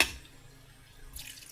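Water is poured into a cooking pot during preparation of ginataang bituo with pako, a short, soft splashing pour near the end after a quiet stretch.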